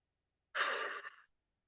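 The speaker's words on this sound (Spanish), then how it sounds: "inhalando por tu nariz y sacando el aire por tu boca" A single slow breath in through the nose and out through the mouth during a guided meditation, a soft, close airy exhale lasting under a second, alone in silence.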